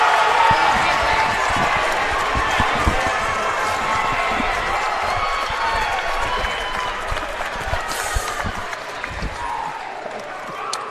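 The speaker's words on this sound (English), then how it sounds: "Definitely heard from the home crowd. They're excited here." Home crowd at a college boxing event cheering and applauding loudly and steadily throughout, a dense roar of many voices with scattered shouts, right after a fighter from Glenville State Boxing is announced in the blue corner.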